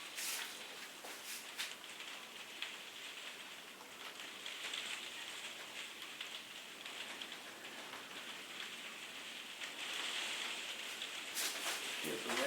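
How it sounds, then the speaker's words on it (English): Steady rain pours down outdoors by a street bar on Porquerolles, a dense continuous patter that stays even throughout, with no voices heard over it. "Here's the rain outside again."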